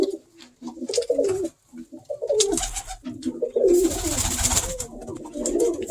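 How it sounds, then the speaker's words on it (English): Pigeons coo in soft, throaty bursts, close by, with a stretch of rustling and fluttering midway through. "Look at these birds."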